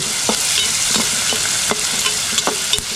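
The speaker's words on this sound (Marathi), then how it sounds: "कांदा टोमॅटोची मस्त फोडणी" Onion and tomato tempering frying in hot oil in an outdoor kitchen, a steady close sizzle with a few sharp clicks and scrapes of stirring scattered through, no talk.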